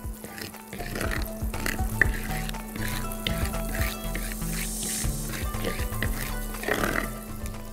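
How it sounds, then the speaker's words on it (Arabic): Sugar caramelizing with butter in a frying pan, a steady close bubbling sizzle with occasional stirring scrapes running throughout, with a faint voice in the background. "هفضل اسيبه مع الزبدة لغاية ما يتحروق ويدي"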